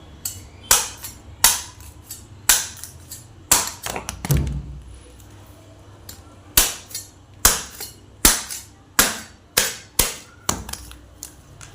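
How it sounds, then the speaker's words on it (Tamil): A knife chops open palmyra palm fruit with a series of sharp, hard whacks in an uneven rhythm, each blow loud and close with a brief knock after it, and no voices. "எல்லா காயும் க்ளீனாக வெட்டி எடுத்துடலாம்"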